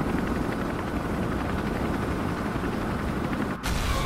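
A helicopter in the Resident Evil 3 video game gives off a loud, continuous rotor chop with dense rapid thumping, briefly cut off by a short gap near the end.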